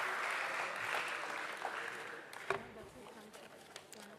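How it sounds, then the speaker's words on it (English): Audience applause at a company stock-exchange listing ceremony, a steady wash of clapping that gradually thins and fades, with a few sharper claps near the end. "Let's once again give a huge round of applause to the Metropolis team."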